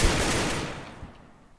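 Gunfire in Counter-Strike on the de_inferno map, a loud dense burst of shots that fades over about a second into a trailing echo with a last weaker crack, heard alone.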